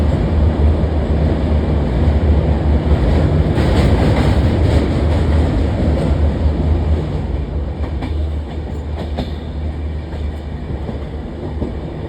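A passenger train running on rails on a morning journey toward Kamakhya Junction, a steady loud rumble with a dense low roar and faint rhythmic clatter throughout, no voices.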